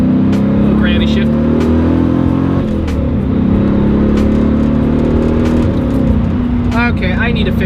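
A C4 Corvette being driven and gently shifted through its gears, a steady loud engine drone with a dip in pitch at the shift and road rumble, heard from inside the car while someone talks over it.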